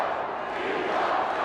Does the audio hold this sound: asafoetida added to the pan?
no